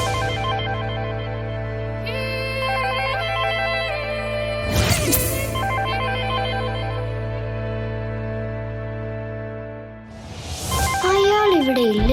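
A mobile phone rings on a television drama set, with a steady electronic ringtone melody playing loudly and continuously, broken by a couple of sharp bursts of background noise.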